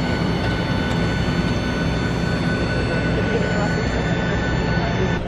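A jet airliner engine in flight on the way to Ibiza, heard from inside the cabin as a steady, loud, unbroken roar and hiss that holds level throughout.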